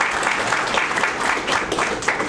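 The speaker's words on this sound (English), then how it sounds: "So I would like everyone really quickly to give an applause to Orest Zborowski." Audience applause at a live talk at Linux Fest NW 2018, steady dense clapping filling the room throughout at a loud, even level.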